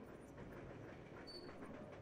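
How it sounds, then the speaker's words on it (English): A runaway train rolls on in Resident Evil 0 HD, a faint, continuous rumbling clatter of wheels on track with no break, heard alone and at a distance. "Yep, the train is out of control."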